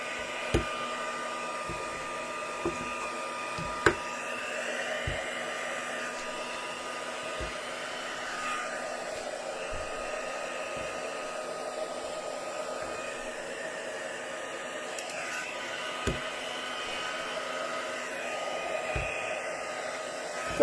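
Hair dryer blowing steadily on a watercolour painting, a loud constant whirring hum that runs unbroken for about twenty seconds, with a few faint clicks and knocks underneath.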